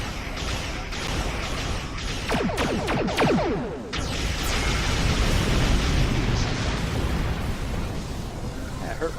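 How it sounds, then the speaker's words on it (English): Advanced torpedoes detonate in space combat in the Star Trek Online game on Xbox One, a dense wash of loud, rumbling explosions that layer over one another with a sharp, crackling burst partway through and a steady roar throughout. "That's what the advanced Bezio torpedoes do."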